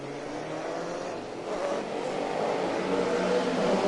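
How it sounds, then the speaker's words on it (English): Ducati factory racing motorcycle at an All Japan Road Race Championship round at Motegi, its engine a steady, loud mid-pitched roar that swells slightly partway through, with no talk. "Now this is Ducati, the factory machine."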